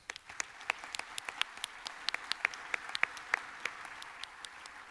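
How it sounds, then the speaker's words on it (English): Scattered applause from a convention audience at a union grand lodge gathering, individual sharp claps standing out over a low room murmur, fairly faint and distant for the full stretch. "Let's give him a round of applause."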